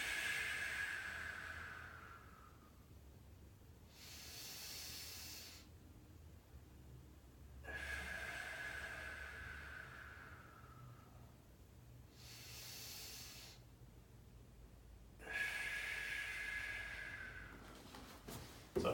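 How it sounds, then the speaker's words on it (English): A person does deep belly breathing, inhaling slowly through the nose and exhaling through the mouth, quiet breath sounds in a slow repeating cycle of long airy inhales and exhales, close and soft. "breathing in through the nose, holding, and breathing out through the mouth"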